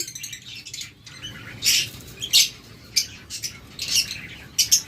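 A pair of violet opaline budgerigars gives short, bright chirps in scattered bursts over a low, steady background hum.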